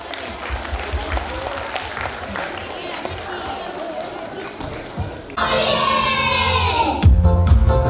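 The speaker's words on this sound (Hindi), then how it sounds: "तालियां।" An audience applauds at a school annual function in Udaipur, with dense, sustained clapping that turns louder and fuller near the end, and voices mixed into the crowd.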